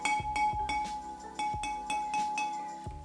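A thrifted solid glass lamp struck repeatedly, giving several bright, ringing bell-like clinks with lingering tones, close and clear, and no talk.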